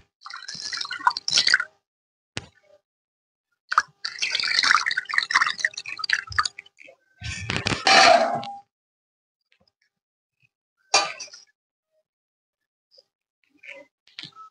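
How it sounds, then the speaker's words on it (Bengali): Chhena cheese curds for rasgolla are rinsed with cold water, giving close, intermittent splashes, drips and wet squishes in short bursts separated by silent gaps. "এবার ঠান্ডা পরিষ্কার জল দিয়ে আর একটু ধুয়ে নেব"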